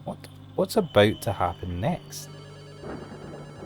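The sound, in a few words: telephone ringing in a video game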